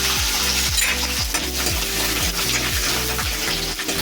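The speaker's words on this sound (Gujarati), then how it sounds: "લસણને પહેલા આપણે તળી લેવાનું છે બ્રાઉન થાય ત્યાં સુધી" Steady, loud sizzle of garlic frying in butter, with repeated scraping strokes of a utensil stirring in a pan, no voices.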